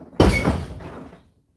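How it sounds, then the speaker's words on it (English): A worn-out, failing door swings open and shut in one sudden close burst with a rattling scrape that quickly fades to quiet, heard alone without talk. "I've got to fix my door again. It's dying."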